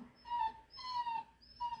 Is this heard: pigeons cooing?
no